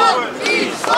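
Hundreds of fans in Dagestan roar and shout together to greet UFC lightweight champion Islam Makhachev outside a building, a loud, dense crowd cheer with overlapping voices throughout.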